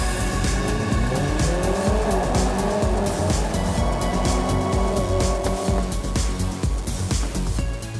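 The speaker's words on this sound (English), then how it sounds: "First blood goes to the A45, edging out the RS3 in a drag race along the front straight of the Pheasantwood facility" A Mercedes-AMG A45 S and an Audi RS3 Sportback race along the front straight of a track, loud engines roaring continuously with rising gear-change notes and tire noise, close and alone.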